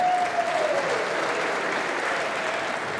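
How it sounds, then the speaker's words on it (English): A snooker crowd at the 2024 Masters quarter-final between Judd Trump and Ali Carter applauds the referee, a sustained, even wash of clapping that fades slightly toward the end, with a brief faint whistle-like tone at the start. "Referee getting a round of applause."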